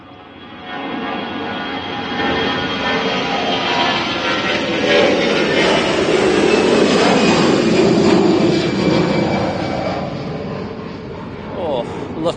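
A Jet2 airliner's jet engines roar during takeoff at Manchester Airport. The loud, broad roar swells steadily over several seconds and then slowly fades as the plane climbs away.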